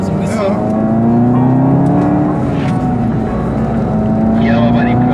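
A SEAT Leon Cupra 280 engine drones loudly from inside the car as it is driven on a former go-kart track in Mallorca, a steady tone that rises and dips gently, with someone talking over it.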